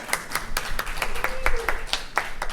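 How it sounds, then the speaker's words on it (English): Scattered hand claps from a forum audience honoring helpers of a women's program, a few distinct sharp claps spaced irregularly rather than a dense ovation, moderately close. "So round of applause to everyone here."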